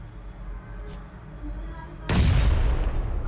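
Grenade thrown in a mobile shooter game, a soft rustle followed by a sudden close, loud explosion that booms and rumbles on to the end of the clip.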